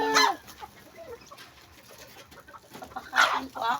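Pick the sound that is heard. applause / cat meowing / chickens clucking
chickens clucking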